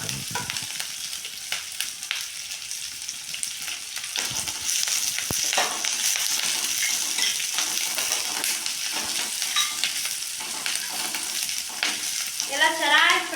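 Vegetables and crushed garlic fry steadily in a pan, a constant hiss under repeated scraping of a spoon against the metal, with a louder burst of sizzle as more goes in partway through.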